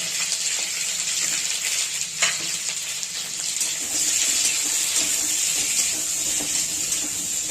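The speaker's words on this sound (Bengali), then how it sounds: "এখানে যে সব মশলাগুলো মানে পেঁয়াজ, রসুন, আদা, কাঁচা লঙ্কা, টমেটো, এগুলো কড়াইয়ের মধ্যে একটু ভেজে নেব।" Onion, garlic, ginger, green chili and tomato fry in hot oil in a kadai, making a loud, steady sizzle with occasional stirring scrapes and crackles close by, and no talking.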